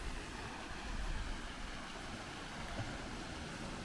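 A waterfall rushes in a steady, broadband roar heard from a short distance, a constant wash of falling water with no pauses and no voices over it.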